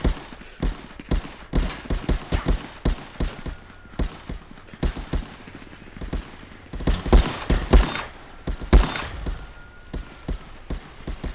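Gunfire in the VR survival video game Contractors: a loud, close barrage of rapid shots in ragged bursts and single cracks, with dense overlapping reports and no pauses longer than a moment.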